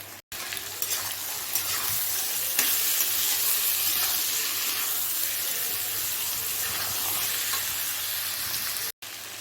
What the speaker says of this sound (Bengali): আলু আর পেঁয়াজটাকে সমস্ত মশলা দিয়ে ভালো করে একটু কষিয়ে নেওয়ার পরে